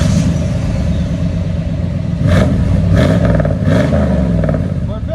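A truck engine fitted with a high flow catalytic converter idles with a deep, lumpy rumble, then gets a few short blips of throttle; voices talk faintly in the background.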